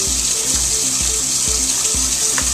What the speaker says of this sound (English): We're gonna turn the water on nice and hot.